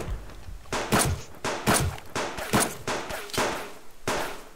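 Gunfire in the survival game Subsistence, about eight heavy shots fired one after another at a steady rhythm, each a loud, close blast with a short tail, and no talking.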